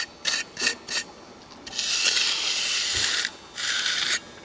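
Hand-smoothing a freshly formed concrete stonework cap, with short scraping rubs followed by longer sustained rasping strokes of a tool over wet concrete, close and fairly loud, no talk.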